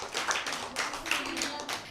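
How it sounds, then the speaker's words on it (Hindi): Children clap for a classmate during a Christmas special show. The claps are uneven, coming in loose bursts at moderate level, and no one talks over them. "तो बच्चों, अनाया के लिए भरपूर तालियां बजाएं।"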